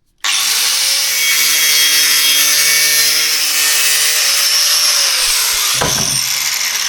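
A power tool cuts a slit into the exhaust pipe of an Austin Allegro, a loud, sustained high-pitched whine and grinding screech starting abruptly and running continuously, with a brief clatter near the end.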